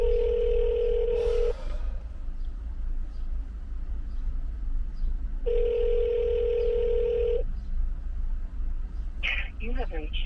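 A telephone line rings while a call is being transferred, two long ring tones separated by a few seconds of line noise, followed by brief clicks at the end.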